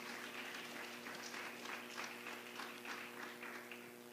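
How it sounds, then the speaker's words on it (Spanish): A church congregation claps together in steady, dense applause that holds at an even level throughout, with a low hum running underneath. "Denle un fuerte aplauso allá al Señor, hermano."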